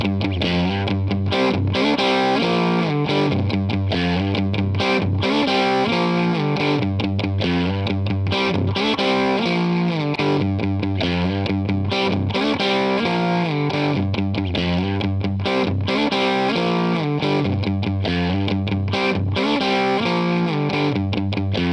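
A distorted electric guitar riff is reamped through a 1972 Fender Super Reverb tube amp, with loud, steady crunchy chords in a repeating rhythmic pattern and no talking.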